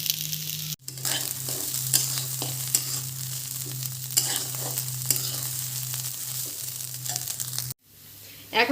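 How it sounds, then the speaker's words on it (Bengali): Rice for khichuri crackles as it is stir-fried in a pan, a close, busy sizzle punctuated by repeated spatula scrapes over a steady low hum, cutting off briefly near the start and end. "চালটাকে আমি ভাজা ভাজা করে নেব।"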